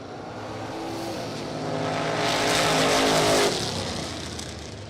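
A small-tire Camaro from Cincinnati and a truck launch in a bracket drag race at the starting line; a loud engine roar swells as they pull away, peaks, then eases off, with no talking over it.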